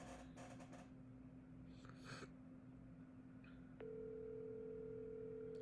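A steady telephone dial tone during a round of cold calls to business numbers comes in about two-thirds through and holds unbroken to the end, over faint shuffling and tapping noises from earlier.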